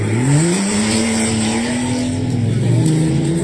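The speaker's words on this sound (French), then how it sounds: "Une voiture qui s'excite, c'est normal." A car revs hard at a truckers' road blockade near Rouen, with a loud, sustained engine whine rising and falling in pitch and a hint of tire squeal. It sounds close, with faint voices underneath.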